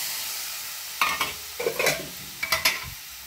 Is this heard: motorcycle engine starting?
no